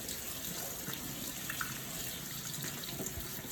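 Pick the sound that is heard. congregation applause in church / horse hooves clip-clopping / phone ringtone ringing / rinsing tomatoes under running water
rinsing tomatoes under running water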